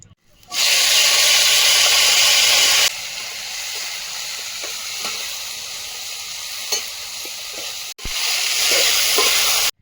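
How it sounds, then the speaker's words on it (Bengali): Yardlong beans frying in a hot pan give a loud, steady broadband sizzle that cuts off sharply near three seconds, then goes on more quietly with faint stirring clicks before a short gap and a loud burst of sizzling at the end. "বরবটি ভাজাটা বসিয়ে দেবো"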